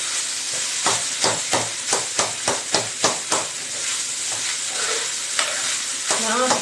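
Leftover rice being stirred and tossed in a hot pan, a loud sizzle broken by a steady run of rhythmic scraping strokes, close up with no talking.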